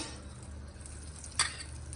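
One tablespoon of butter sizzles steadily in a hot pan as the base for a masala, a soft continuous crackle with one brief sharp clink partway through.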